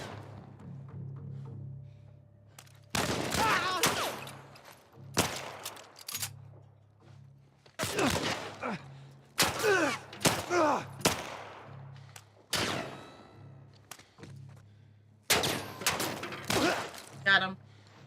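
Gunfire in The Last of Us Part 1, a series of sharp separate shots and short bursts spaced across the scene, loud against a quiet low hum, with people talking between them.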